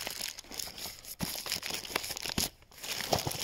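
A small mailed parcel bag holding a truck backup camera is torn and crinkled open up close, with bursts of ripping plastic or paper and rustling, no talking.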